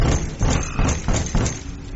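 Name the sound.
knocking on a door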